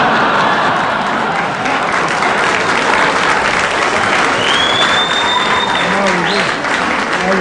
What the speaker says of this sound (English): I like the way you clap and everything.